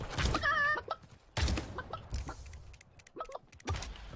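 Several short bursts of chicken clucking in the video game Realm Royale, with a few sharp percussive pops scattered between them.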